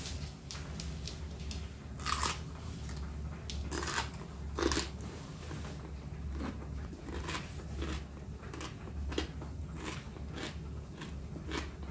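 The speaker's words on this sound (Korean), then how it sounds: "제가 무김치를 한번 먹어볼게요" Crunchy radish kimchi is bitten and chewed close up, with repeated crisp crunches at irregular intervals over low background noise.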